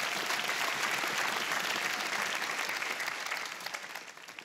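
A comedy club audience applauds, a thick, even wash of many hands clapping that fills the room before trailing off at the end.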